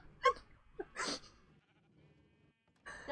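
Two short goat bleats from Minecraft, close and fairly loud near the start, then a longer, brighter bleat, followed by quiet game ambience and a final bleat at the end.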